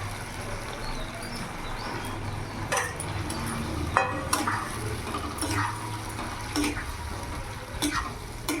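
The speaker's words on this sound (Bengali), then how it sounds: "এবার ভেজে রাখা ভেন্ডিগুলো দিয়ে দেবো।" Fried okra tipped into bubbling yogurt gravy and stirred, a steady low simmer and sizzle broken by repeated short scraping and clinking strokes of the spoon against the pan, close and fairly even throughout.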